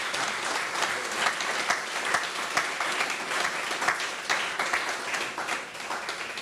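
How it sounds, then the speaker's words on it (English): Steady applause from an audience at a plaque unveiling and road naming ceremony, dense and continuous clapping throughout with a slight dip near the end. "Please give that young lady a next big round of applause."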